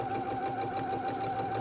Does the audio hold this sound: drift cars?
no